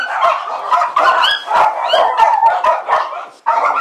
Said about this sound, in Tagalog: Grabe, ang daming aso.